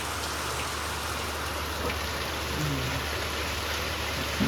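Steady heavy rain pours down continuously, a dense hissing wash with no pauses and no voices.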